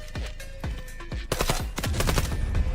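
Rapid bursts of twin-pistol gunfire in the video game Delta Force, single sharp shots at first, then quicker overlapping volleys, fairly loud and close.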